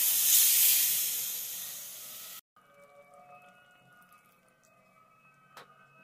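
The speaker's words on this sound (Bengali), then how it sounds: "এবার আমি এর মধ্যে দিয়ে দিচ্ছি পরিমাণ মতো জল।" Water poured into a hot pan of spiced prawns for a Bengali chingri posto gives a loud, steady hissing sizzle that fades over two seconds, then cuts to quiet kitchen sounds with faint clinks.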